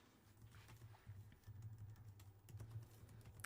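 Someone types on a computer keyboard with quick irregular clicks over a low steady hum.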